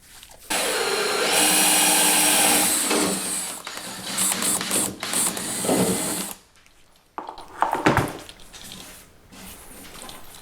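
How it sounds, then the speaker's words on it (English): A cordless drill with a 7/8 inch hole saw bores through a solid door at the knob hole, a loud sustained whine with brief pauses and bursts before cutting off, then quieter handling noises. "I'm just going to drill this down until I break out the bottom end of the knob hole here."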